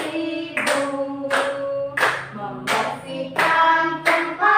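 Children clap their hands in a classroom, with six separate bursts of claps, each sharp start ringing out, loud and close, with no talking over them.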